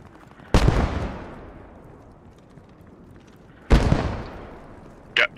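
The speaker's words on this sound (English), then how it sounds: "I got an infantry shooting at me right behind me" Two loud, booming gunshots echo across a World War II video game battlefield a few seconds apart, each trailing off into reverberation, followed by a sharper, shorter crack at the end.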